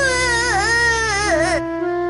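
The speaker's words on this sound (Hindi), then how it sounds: "उसमें से एक बच्चे के रोने की आवाज आने लगी" A baby's cry used as a sound effect in a cartoon story, a loud, close wavering wail lasting about a second and a half before cutting off abruptly.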